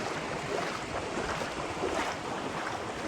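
Sea waves wash and surge continuously at a beach in Malvan, mixed with gusts of wind buffeting the microphone.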